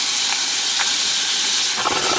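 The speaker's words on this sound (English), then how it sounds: "I'm just going to cook this over medium until the onion gets nice and soft and translucent." Onion cooks over medium heat in a pan, producing a loud, dense, continuous hiss and sizzle with a few faint clicks of movement.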